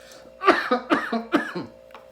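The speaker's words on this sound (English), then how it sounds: "His cough is getting worse than ever." Three loud, harsh coughs in quick succession, close by, trailing off into a softer throaty sound.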